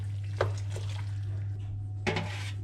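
Baked spaghetti being gently mixed with sauce, heard as a few soft clinks and scrapes of a utensil against the dish over a steady low hum.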